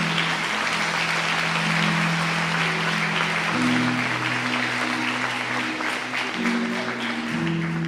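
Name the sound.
applause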